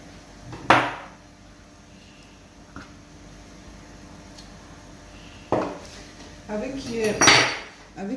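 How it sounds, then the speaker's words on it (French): A small spoon scraping out fruit flesh makes a few brief clinks and scrapes against a dish, one sharp tap early, then a cluster of scraping strokes near the end, with quiet gaps in between. "Avec une petite cuillère, j'essaie d'enlever la chair"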